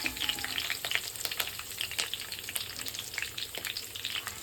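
Curry leaves and torn dried red chillies crackle and spit in hot oil while tempering a tomato pickle, a busy stream of sharp pops over a steady sizzle, close and without talk.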